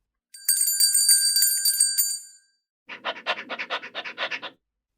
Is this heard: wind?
no